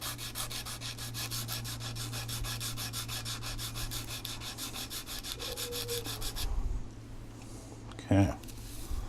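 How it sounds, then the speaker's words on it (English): A sanding stick rubs rhythmically against the end of a plastic scale model part, steady close scraping strokes for several seconds before stopping, followed by a brief clunk. "taking my sanding stick and cleaning off the end."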